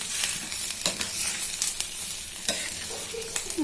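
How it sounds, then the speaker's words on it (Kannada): Vermicelli being added to a frying pan and stirred for shavige upma: steady sizzling with scraping spatula strokes and occasional clinks, close and alone without talk. "ನೋಡ್ರಿ ನಾನು ಶಾವಿಗೆ ಹಾಕ್ತಾ ಇದ್ದೀನಿ"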